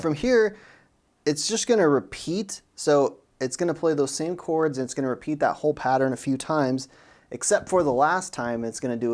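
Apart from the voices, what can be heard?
No everyday noises stand out.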